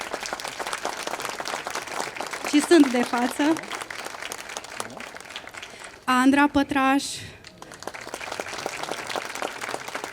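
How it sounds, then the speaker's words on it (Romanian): A Romanian folk music book launch audience applauds in two short bursts of clapping between stretches of someone speaking, the clapping fairly close and moderately loud. "Vă rog să-i aplaudăm."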